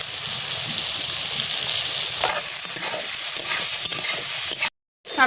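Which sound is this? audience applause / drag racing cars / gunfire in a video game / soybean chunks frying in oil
soybean chunks frying in oil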